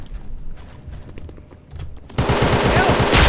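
STG-44 rifle fire in the Roblox game Unit 1968 opens with scattered distant shots and movement, then a loud, rapid close burst of automatic fire runs to the end.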